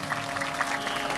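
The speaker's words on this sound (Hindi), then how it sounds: "एक बार फिर ताली बजाई" An audience claps at a Bhagwat Katha religious gathering, a dense, steady burst of applause heard alone throughout.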